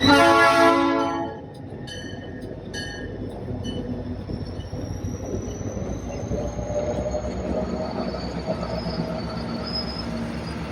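A train horn blares briefly, then a passenger train rumbles steadily along a mountain railroad toward Bahuichivo, Mexico, with a continuous rolling roar and faint high wheel squeal.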